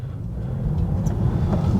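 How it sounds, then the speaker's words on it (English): A Tesla Model 3 Performance electric car accelerates hard, a dense low road-and-wind rumble building steadily from inside the cabin, with a faint rising tone mixed in. "First up is the absolutely ludicrous acceleration."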